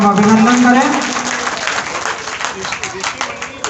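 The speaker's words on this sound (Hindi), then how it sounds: "एक बार आप सबके में जोरदार तालियां बजा के आपका स्वागत एवं अभिनंदन करें" Crowd applause welcoming guests on stage at a community cricket tournament event, loud clapping that swells at the start and then thins out, with a voice audible briefly over the opening.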